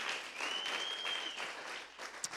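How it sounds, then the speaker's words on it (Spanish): Church congregation applauding during a Spanish-language sermon, a steady wash of clapping at moderate distance that tapers off near the end, with a faint sustained tone running through. "¿Le da usted un aplauso al Señor por lo que le ha dado?"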